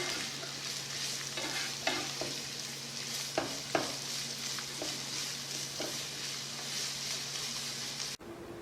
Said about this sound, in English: we blanch the onions in the bacon